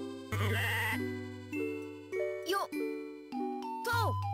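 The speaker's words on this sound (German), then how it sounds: "Ein Schaf." A video game sheep in Harvest Moon bleats several times in short, loud, wavering calls separated by brief pauses, with some light tinkling accompanying the cries.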